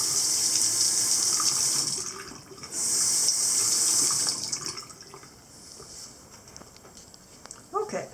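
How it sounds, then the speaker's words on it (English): Tap water runs over a glove being rinsed at a sink, a steady splashing hiss in two bursts with quieter dripping and handling between them. "rinse that off and dry the glove again"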